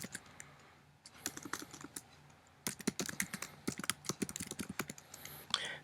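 Keys on a computer keyboard are typed in quick, uneven bursts of close, crisp clicks, with a short pause before a faster run of tapping.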